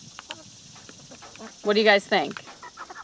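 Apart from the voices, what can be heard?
chickens clucking, roosters and hens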